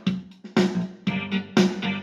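A Casio CTK-5000 electronic keyboard's built-in rhythm pattern plays with a steady bass line and chords, looping evenly at moderate volume with no talking.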